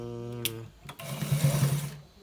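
Sewing machine stitching a white trouser runs in a steady close whir for about a second after brief voiced sounds at the start.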